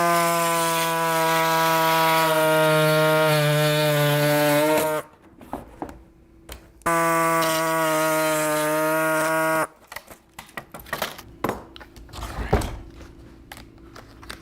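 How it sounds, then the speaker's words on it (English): A reciprocating air saw cutting thermoformed plastic gives loud, harmonic buzzing bursts of several seconds each. Short pauses separate the bursts, and rattling and clattering follow at the end. "I know just the tool. Reciprocating air saw."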